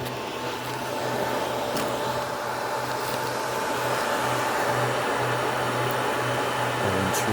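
Loud, steady whir of cooling fans in a Dell PowerEdge 2650 rack-mount server, one fan running fast, a constant broadband rush with a low hum holding throughout, close by and without speech.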